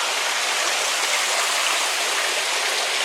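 Pond water runs steadily inside a haunted-attraction tent during setup, a constant broadband rushing wash like a small stream or waterfall, close and continuous with no voices.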